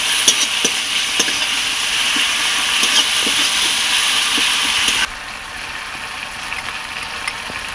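Ground spices, including ground garlic, sizzle loudly and steadily in a pan, with scattered ticks of stirring; the frying drops to a quieter hiss partway through.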